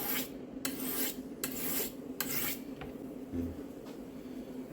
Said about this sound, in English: Here I have a diamond knife sharpener, 400 grit.